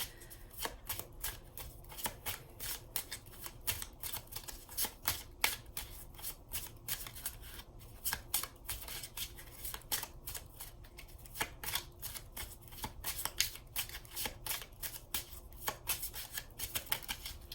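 A deck of Botanical Inspirations oracle cards is shuffled by hand in dense, repeated riffling bursts, close and fairly quiet, running almost continuously without voices.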